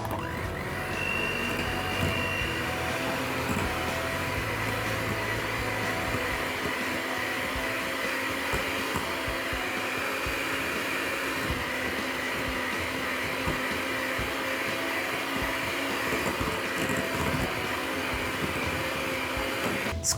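Continuous whirring drone of an electric mixer whisking chocolate peanut butter cookie dough in a bowl, close and steady, with a slight shift in pitch as the motor works through the dough.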